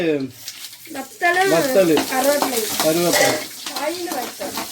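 Mustard seeds and curry leaves sizzle and are stirred in hot oil in a pan, a steady frying hiss running under loud, continuous talking from nearby voices.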